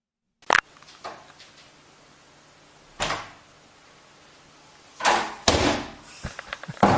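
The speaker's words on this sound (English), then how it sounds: "A snake opens the door." Door being pushed open by a snake, a sharp knock followed by scattered dull thuds and bumps at uneven intervals against a near-silent background.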